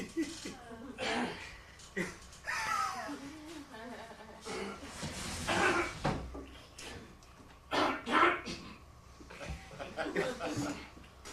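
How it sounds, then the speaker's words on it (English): Dog barking somewhere in a theater, heard in scattered yelps and barks mixed with chuckling and laughter from people nearby, with speech running through much of the scene. "Get that damn dog out of here."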